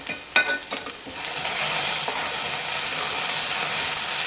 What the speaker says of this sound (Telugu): బెండకాయ కర్రీకి మనం మళ్ళీ ఒక్కసారి అయితే కలుపుకుందాం